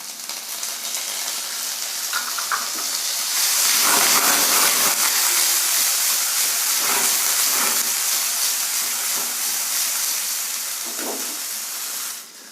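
Potatoes and peas frying in a pan: a loud, steady hissing sizzle that swells midway and stays broad and close, with faint stirring scrapes under it and no speech.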